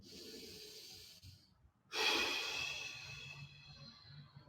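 Heavy, deep breathing during a yoga class exercise, with a steady breathy hiss that pauses briefly, then a louder sharp inhale or exhale that fades slowly, close and alone without talk.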